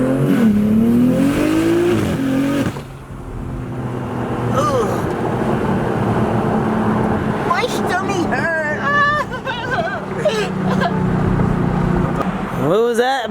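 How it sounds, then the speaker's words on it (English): A BMW M3 Competition does a burnout, its engine revving hard and droning steadily, with tire noise mixed in. Several people talk and shout over it throughout. "Do a burnout!"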